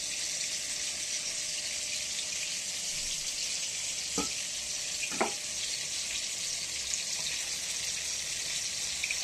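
Tomato with turmeric and spices fries in a pan, giving a steady, even sizzle throughout, broken by a couple of brief clinks of a utensil partway through. No one speaks.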